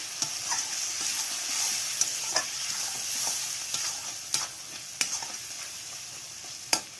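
Tomatoes fry with turmeric in a pan, making a continuous close sizzle broken by occasional stirring scrapes and sharp spatter pops.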